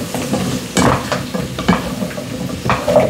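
Vegetables for a lamb stew sizzle and start to caramelize in a pot, with a loud, close frying hiss broken by several spoon-stirring strokes and scrapes, and no voices.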